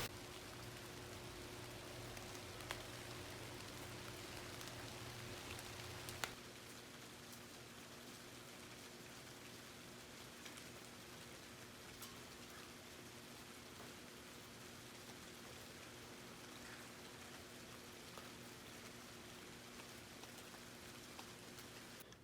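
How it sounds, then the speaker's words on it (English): Rain falls steadily outside in a soft, continuous patter with a low hum beneath it, and a few faint clicks stand out near the start. "It's raining outside."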